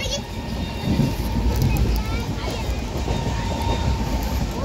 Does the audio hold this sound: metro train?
yes